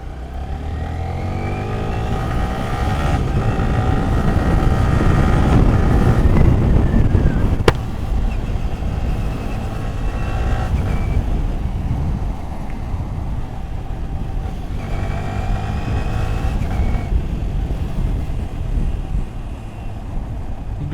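A Yamaha R15 V3 sports motorcycle being ridden, its engine droning steadily with rising and falling pitch under heavy wind noise, loud and close throughout without talk.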